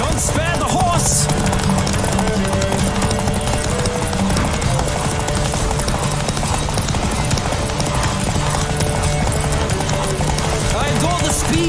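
Galloping horse hooves in The Witcher 3, a rapid, unbroken clip-clop beat kept up through a race, mixed with music and occasional shouting voices, loud and close.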